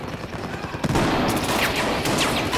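Shotgun gunfire in Battlefield 4, a dense burst of loud blasts that starts abruptly just under a second in and continues over steady game noise.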